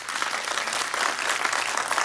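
Members of the public applauding at a city council meeting, a steady, dense wash of many hands clapping that fills the room from start to finish with no talk over it.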